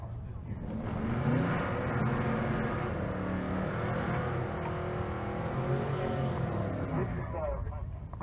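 A drag race car launching during time trials, a heavy engine roar that rises and holds with harmonic revving, heard from a distance under a commentator's voice.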